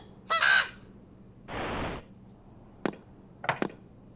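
Crows cawing in the video game Tic-Tac-Crow: a harsh caw, a longer rasping burst, then several short clipped caws and chops, crisp and close against silence.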